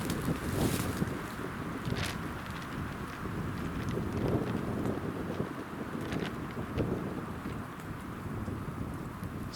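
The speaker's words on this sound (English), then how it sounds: "it's too windy." Strong wind roars across an exposed Appalachian ridgeline in the woods, a constant loud rushing buffet with gusty swells and rough microphone rumble throughout.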